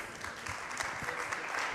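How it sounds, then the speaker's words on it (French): Audience applause closing a round-table session at a professional conference on product data, a dense steady clatter of many hands clapping throughout, fairly close and continuous. "On peut les applaudir très fort encore une fois"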